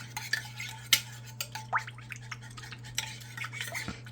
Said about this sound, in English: let's get that stirred up some